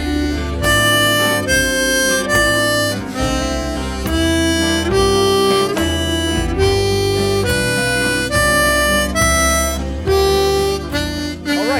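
Blues harmonica playing a rhythmic bass-line pattern of repeated chugging chords, cut short and finished with a few held draw notes, loud and continuous with no voices.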